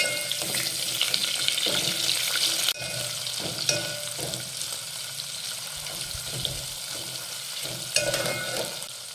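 Finely chopped tomato sautés in a pan for Maharashtrian masale bhat, giving a loud, steady close sizzle with occasional soft scrapes and clinks as it is stirred, and no talking.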